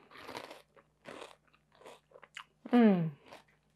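Pork rinds dipped in a creamy green keto jalapeno sauce, crunched in several close, crisp bites with chewing between them, plus a short appreciative hum from the eater.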